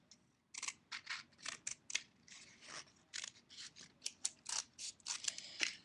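Scissors snip repeatedly through material for a doll-sized campfire craft, a quick series of close, crisp cuts with short pauses between strokes and no talking.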